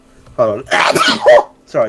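A single loud, close sneeze bursts out between bits of conversation, with voices speaking just before and right after it.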